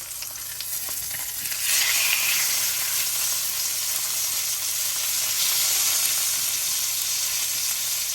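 A pot roast of meat sears on its side in a hot pan, giving a steady, close, bright sizzle that swells slightly louder partway through and keeps hissing without pause.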